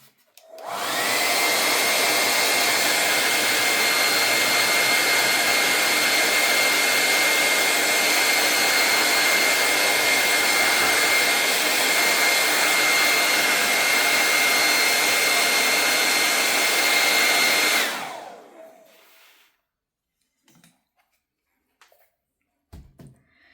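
Hair dryer drying a layer of watercolor paint, a loud steady whooshing drone running about seventeen seconds up close, then switching off into near silence with a few faint handling taps.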